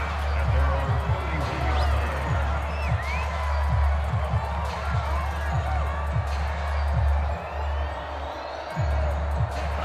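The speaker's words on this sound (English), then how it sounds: "And the home crowd loves it." A home crowd cheers at a 49ers football game, a broad roar of stadium noise that holds steady throughout, with a commentator talking over it.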